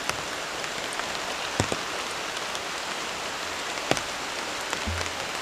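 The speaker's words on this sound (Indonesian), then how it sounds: "Hujannya semakin besar, teman-teman." Steady heavy rain falling at a campsite, a dense even hiss of drops with a few louder patters on nearby surfaces, continuous throughout.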